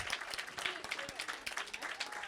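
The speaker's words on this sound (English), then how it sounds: "Let's give Gabby a round of applause" Audience members at a fitness club award ceremony give a scholarship recipient a round of applause, a fairly faint, steady patter of clapping with some voices mixed in.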